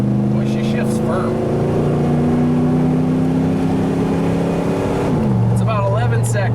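A Ford F250 truck with a 460 engine accelerating hard, its loud engine drone climbing steadily in pitch before a firm gear shift drops the revs, then building again; someone speaks briefly.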